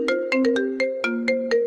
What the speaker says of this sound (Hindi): अब ये किसका फोन आया है?